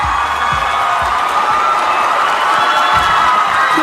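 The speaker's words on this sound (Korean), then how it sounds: "여러분 다시 한번 축하의 박수 부탁드리겠습니다." A church congregation at a Sunday service cheers and applauds an award winner, with loud crowd shouting and whooping filling the space continuously.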